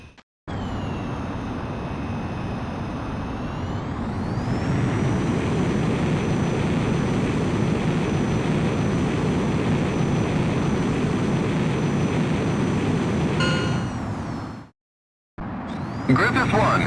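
Su-37 jet in Ace Combat X taking off: a steady loud turbine roar rises in pitch as thrust builds, holds for a long stretch, then cuts out briefly before returning.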